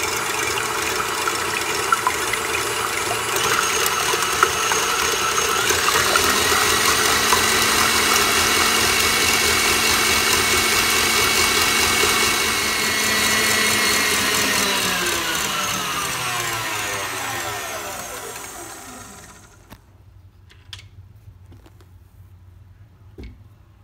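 An electric hand mixer whips egg whites with a pinch of salt in a steady, close whir that runs unbroken, then winds down in pitch and cuts off, leaving near quiet with a few faint clicks.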